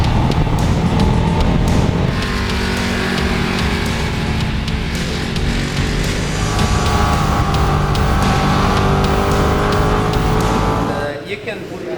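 A Ducati motorcycle at speed on the Mugello race track, its engine roaring loud and continuous with rising and falling pitch through the corners, easing off near the end.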